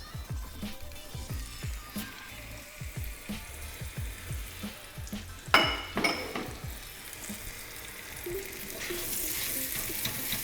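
Breakfast sausage frying in a bacon-greased pan, a steady sizzle with a run of rhythmic scraping and stirring clicks, a brief louder clatter midway, then a broader hiss as the frying builds near the end.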